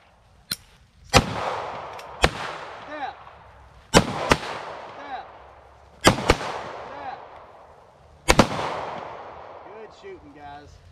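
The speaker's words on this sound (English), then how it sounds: "Shooting, guys." Handgun shots fired outdoors during a gun retention training drill, about eight sharp cracks in pairs and singles spaced every two seconds or so, each with a ringing decay; faint talk in the background.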